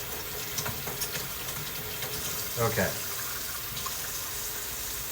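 Water rinses through trumpet valves and pipes during valve cleaning, a steady faint splashing and trickling with a brief louder gurgle midway, while a voice speaks briefly.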